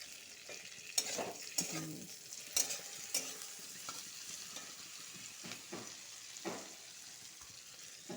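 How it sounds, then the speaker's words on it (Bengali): Potatoes with curry leaves frying in oil, a quiet continuous sizzle with several sharp clinks and scrapes of a spatula against the pan. "আলুটা ভালো করে ভেজে নিব"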